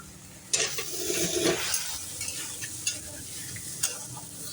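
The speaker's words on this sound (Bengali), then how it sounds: "তো ডালটা ভালোভাবে নেড়ে চেড়ে নিচ্ছি" Dal for khichuri being stirred around a pan in a little oil, with a faint sizzle under scraping spoon strokes, a few sharper clinks standing out, close and moderately loud.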